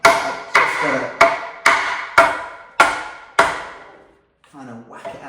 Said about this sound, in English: I'm going to like lay into the bike now a little bit by whacking it